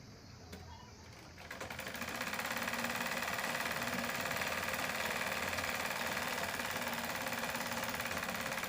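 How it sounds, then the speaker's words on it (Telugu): A sewing machine stitches the side seam of a lined blouse, starting up after a quiet moment and then running as a steady, loud, continuous whir to the end. "మనం సైడ్ కుట్టేస్తున్నాం అండి"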